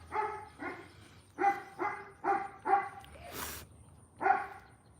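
A dog barks outside in a yard, about seven short, fairly faint barks in uneven bursts with brief pauses between them, sounding somewhat distant.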